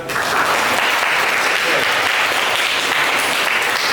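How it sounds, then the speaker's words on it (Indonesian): Schoolchildren applaud in a classroom, a loud, continuous wash of close clapping that holds steady from start to finish. "Beri tepuk tangan buat"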